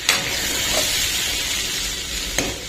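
Ivy gourd pieces sizzle steadily in a hot pan after chili powder is added, with a broad constant frying hiss and a few sharp scrapes of a spoon stirring them, and no talk.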